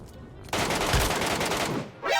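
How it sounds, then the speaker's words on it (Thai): Rapid gunfire in the PUBG Mobile shooter game, a sustained loud burst of automatic shots lasting about a second and a half, then cutting off, with faint game sounds around it. "มันมีคนยิงหัวผมวะ"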